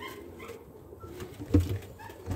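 Black tippler pigeons cooing outdoors, soft low coos with a louder burst near the end and faint background noise, no talk.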